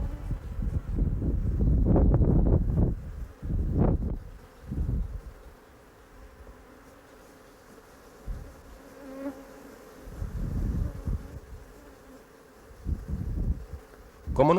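Canary Islands honey bees buzz close to the microphone in swelling, uneven bursts, with wind noise and quieter stretches between the louder passes.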